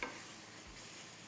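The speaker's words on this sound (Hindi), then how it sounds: "और इसमें जाएगी हमारी ताजी टमाटर की प्यूरी। अच्छे से मिक्स करिए" Fresh tomato puree is stirred into a pan of frying paneer masala for a dhaba-style paneer khurchan, giving a faint, steady sizzle with soft stirring scrapes and no talk.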